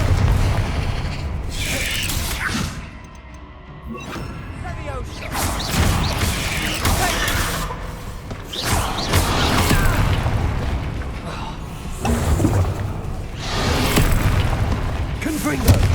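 Repeated Confringo fire spells blasting in the Hogwarts Legacy video game, several loud booming bursts spread across a busy battle with shouted spell names and combat noise.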